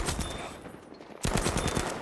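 SMG fire in the video game Battlefield V: a quieter stretch of rapid shots, then a louder, close burst of fast automatic fire.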